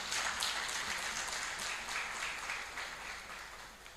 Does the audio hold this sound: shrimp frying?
no